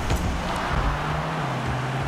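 Car engine in the video game Rocket League, a steady low droning hum with faint background roar.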